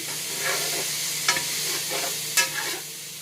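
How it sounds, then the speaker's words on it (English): Bok choy, yellow and orange peppers and red onion being stir-fried in a pan, with steady sizzling and a few louder stirring scrapes and clatters close up. "So you're mixing in your bok choy with your peppers, yellow, orange, and your red onion."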